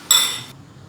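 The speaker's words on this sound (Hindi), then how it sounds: "अब हम इसको डिश आउट करते हैं।" Creamy, cheesy spaghetti is served onto a dish, a single bright metallic clink of utensil against plate, close and sharp, ringing briefly before fading into quiet room tone.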